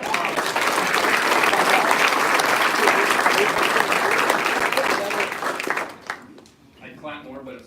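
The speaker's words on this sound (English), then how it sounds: "So let's give them a round of applause." Loud, dense crowd applause at a meatball dinner event, sustained for about six seconds before fading out as voices take over.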